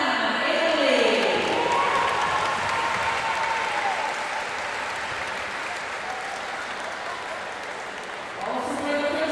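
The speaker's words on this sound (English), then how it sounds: "Big round of applause for Modena," Big round of crowd applause welcoming the Modena, Italy team at a youth basketball tournament finals, dense and continuous, under an announcer's amplified voice at the opening and close.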